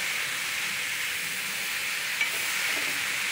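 Kolmi greens (water spinach) fry in oil with a steady, close, even sizzling hiss that holds at a constant level throughout, with no talking.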